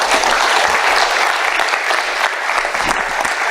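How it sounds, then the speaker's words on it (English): Dense, steady applause from a seated audience greets a speaker, loud and unbroken for several seconds with no voices over it. "A big round of applause for Saliegh."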